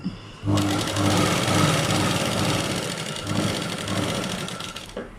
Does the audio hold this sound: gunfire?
no